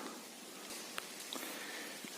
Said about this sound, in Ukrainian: Добрий дощ йде.